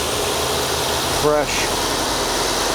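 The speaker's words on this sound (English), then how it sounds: "I hear a smooth running V8 engine." A V8 engine idles smoothly in a repair shop, a steady even rumble running throughout while a person talks briefly over it.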